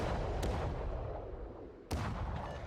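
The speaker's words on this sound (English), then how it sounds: "it's probably also the Devonshire that's shooting me here" Naval gunfire in World of Warships around a Bismarck under fire, with a heavy rumbling boom and rolling low rumble, then another sharp blast near the end.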